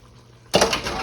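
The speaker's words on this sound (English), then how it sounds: "Now we're gonna add our shrimp to this." Raw shrimp are dumped into a boiling shrimp and sausage boil pot, a sudden close splash and rattling clatter after quiet bubbling, continuing as a busy wet sizzle.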